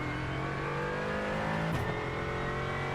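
A race car engine in the iRacing sim holds a steady, high-pitched revving drone, dipping briefly as the revs shift midway before climbing back to a constant whine.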